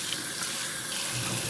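Chopped wild apples are rinsed under a running kitchen tap, a steady splashing stream of water filling the short moment with no talking.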